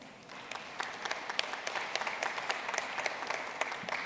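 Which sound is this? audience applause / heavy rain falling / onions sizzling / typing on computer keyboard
audience applause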